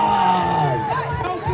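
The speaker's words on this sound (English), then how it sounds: "Let me hear you cheer for your houses." A school audience cheers and yells for their houses, a dense crowd of voices rising in whoops and shouts that stays loud and continuous for a moment.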